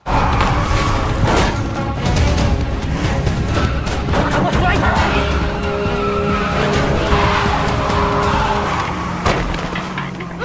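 A car speeding and skidding in a film action scene: loud, steady engine roar with tire squeal and bursts of impacts, dense and close for the whole stretch, with a voice partly underneath.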